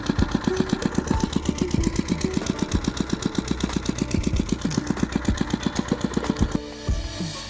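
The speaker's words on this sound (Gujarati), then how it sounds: "ફાઇનલી આપણે મશીન ચાલુ કરી નાખ્યું છે આ છે આપણું મશીન" A farm machine engine chugs steadily with a fast, regular thumping beat, loud and close, running alone before the rhythm shifts at the end.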